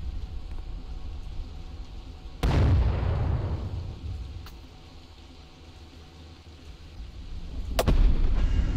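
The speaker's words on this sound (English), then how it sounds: "Actually sounds like a mortar going off. Like I'm for real being bombed." Mortar shells exploding in a video game, a loud deep blast with a rumbling decay early on, a faint sharp crack after it, and another heavy boom near the end over constant low background noise.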